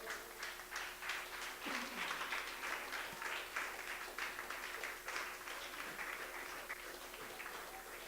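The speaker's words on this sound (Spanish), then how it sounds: "Vamos a dar fuertes palmas al nombre del Señor" A church congregation claps hands in praise, a faint but continuous patter of many hands with a rhythmic pulse and a few voices mixed in.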